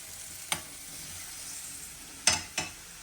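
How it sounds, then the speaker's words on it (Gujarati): Garlic sizzles in hot oil on a stove as it sautés toward golden brown, a steady low hiss with a few brief scraping stirs of a utensil against the pan. "લસણને આમાં નાખી અને છે ને થોડી વાર એને સાતળવાનું, થોડું બ્રાઉન જેવું થઈ જાય ને ગોલ્ડન કલર ત્યાં સુધી."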